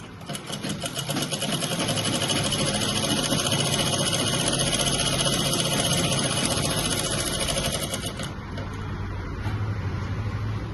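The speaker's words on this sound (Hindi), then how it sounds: "ये वाला हिस्सा है उसको मैं सीधा सिलाई कर दूंगी" A sewing machine stitches a trouser pocket with a steady, fast mechanical whir and rhythmic needle clatter, running close and continuously for about eight seconds before easing to a lower hum.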